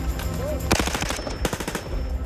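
An HK rifle fires full-auto bursts at a French Foreign Legion NCO course, rapid close, loud repeated shots in two quick strings over a noisy outdoor background.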